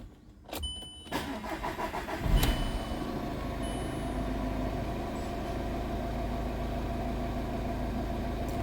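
A 2015 Volkswagen Vento Highline sedan with about 96,000 on the reading is started: a few clicks, then the starter cranks briefly and the engine catches, settling into a steady, close idle.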